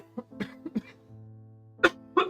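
A few short, close coughs and throat-clearing sounds with a low hum between them, ending in two louder coughs.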